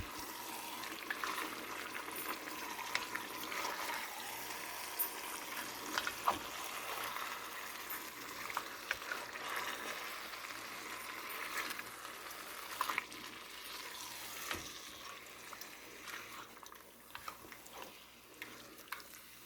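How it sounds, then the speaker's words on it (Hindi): Chicken korma simmers and sizzles in a pot, a soft continuous bubbling and hiss broken by scraping stirs and occasional clinks of the spoon, close and fairly quiet. "अच्छा देखें, इसमें स्टीम बन गई है, तो अब हम इसको मिक्स करेंगे।"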